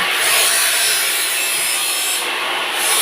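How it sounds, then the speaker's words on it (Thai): Continuous harsh grinding of a cutting tool through steel, loud and steady for a few seconds, with a high whine running over it. "ตัดเหล็ก ตัดเหล็กวัดระดับ"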